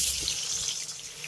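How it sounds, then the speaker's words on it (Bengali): Pointed gourd pieces dropped one by one into hot oil make a bright, continuous hiss of sizzling, close up, steady and loud. "তেলটাকে ভালোভাবে গরম করে নিয়েছি এবার আমি পটলগুলোকে এক এক করে তেলের ভিতরে ছেড়ে দেব"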